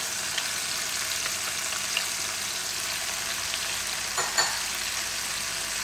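Onions, garlic and herbs sizzle steadily in a pan for a one-pan chicken and king prawn paella, a continuous broadband fry with a few soft stirring scrapes, close and fairly loud with no talking.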